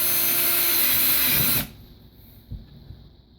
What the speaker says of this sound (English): I go ahead and clamp the two together and drill them at the same time.